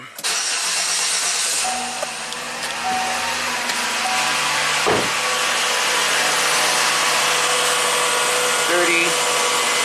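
A 2008 Saturn Vue V6 engine cranks and catches, then settles into a loud, steady idle that continues throughout, close to the listener.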